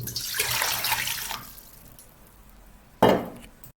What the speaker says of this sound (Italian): Versiamo l'acqua in un recipiente abbastanza grande da contenere l'impasto una volta lievitato.